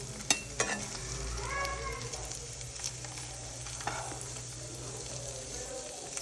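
Paneer pieces fry lightly in a pan over medium heat with a constant soft sizzle, punctuated by a few sharp clicks and utensil taps as the pieces are turned; quiet overall, with no talking.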